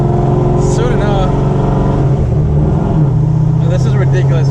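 An all-motor Corvette Z06 exhaust booms loudly from inside the cabin, a constant low rumble with rising and falling engine tones, while people talk over it.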